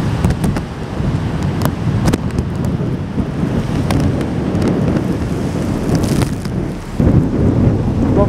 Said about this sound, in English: With Storm Ciara pushing through, as you can tell. It's a bit wet and it's a bit windy.